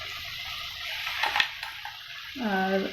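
Spring onions drop into a hot pan of chilli garlic sausages and tomatoes, setting off a steady sizzle with a burst of stirring clatter midway, while a voice hums a short tune near the end.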